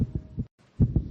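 A fast heartbeat thumps in quick double beats, low and muffled, with a brief silent gap partway through.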